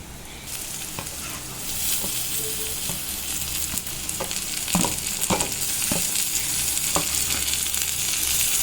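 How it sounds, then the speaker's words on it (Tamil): Steady loud sizzling of tomatoes sautéing in a hot pan, with occasional clicks and scrapes of stirring throughout. "தக்காளியை நல்லா போட்டு வதக்கி விட்டுக்கோங்க"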